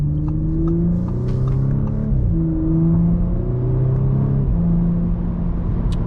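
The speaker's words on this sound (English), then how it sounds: "It's a good, healthy 6-cylinder sound" An Audi S4 six-cylinder engine and exhaust heard from inside while driving, a steady low rumbling drone whose pitch climbs through a couple of gear changes, loud and continuous with no voices.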